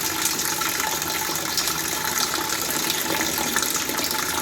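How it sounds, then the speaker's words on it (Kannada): Water pours steadily into an idli steamer pot, a continuous close splashing gush at even loudness throughout with no talk. "ಈಗ ಸ್ಟೀಮರ್ಗೆ ನೀರನ್ನು ಹಾಕಿಕೊಳ್ತಾ ಇದ್ದಾರೆ."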